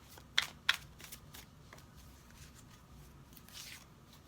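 Tarot cards being shuffled by hand at close range, two sharp riffling snaps at the start followed by softer, quieter card slides and rustles, with no talking.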